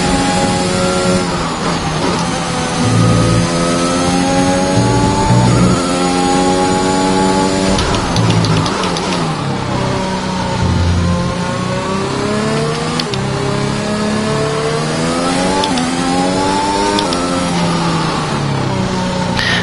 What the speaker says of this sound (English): Let's bring this car for a ride.